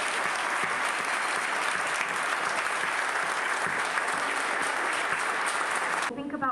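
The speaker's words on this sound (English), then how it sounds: "Give them a big round of applause." Audience at a university event applauds loudly, a dense, sustained clapping that fills the room without letup before ending abruptly.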